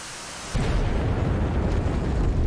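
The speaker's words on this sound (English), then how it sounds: "He's inside a circle, so definite hit in this case by the missile." A laser-guided APKWS rocket fired from an A-10C II strikes an armored vehicle in the DCS combat flight simulator, a sudden heavy blast that jumps in abruptly and rolls on as a loud, sustained roar.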